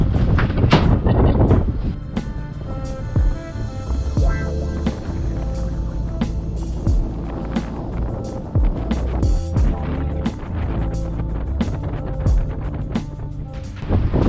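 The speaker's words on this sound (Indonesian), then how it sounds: "Oke, sekarang waktunya kita mau coba mesin ini setelah di servis." A boat engine, just back from servicing, runs steadily at sea with a loud continuous low drone, mixed with water splashing and heavy wind buffeting on the microphone throughout.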